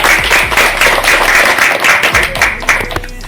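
An audience applauds and claps hands in a continuous burst lasting a few seconds, fairly loud and close, with a few voices mixed in.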